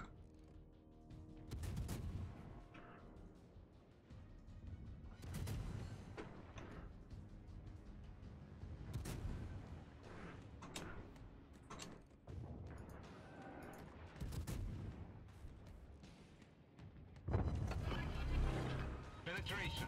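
Naval guns firing high-explosive shells in World of Warships, a series of heavy booming salvos with rumbling low ends spread across the stretch, mixed with mechanical game effects and occasional talk.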